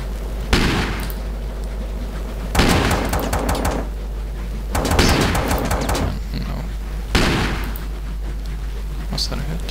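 Heavy rifle fired in the top-down shooter Teleglitch: four loud, booming shots spaced about two seconds apart, each trailing into a rumbling decay.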